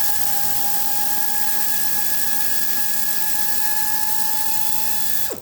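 A power drill backing Phillips screws out of a car seat, a steady high whine held close and loud for several seconds before winding down abruptly at the end.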